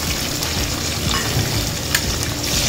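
Small onions, garlic and green chillies sauté in a pan, a close, busy sizzle with soft stirring scrapes over a brief few seconds.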